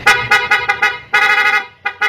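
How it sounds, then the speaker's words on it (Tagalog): Loud, close horn blasts from an aftermarket two-way alarm on a Honda PCX 160 scooter, in short rhythmic bursts, several quick toots, then a longer sustained blast and another short toot. "Pag pindot natin ulit dito, tapos siya mag-loud horn ulit."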